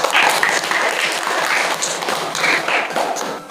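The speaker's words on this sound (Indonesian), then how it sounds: "Sekarang kita berikan tepuk tangan untuk mereka berdua." Classroom applause for two students in a dance lesson, a dense burst of many hands clapping at once that holds steady for a few seconds and then tapers off, fairly loud and close.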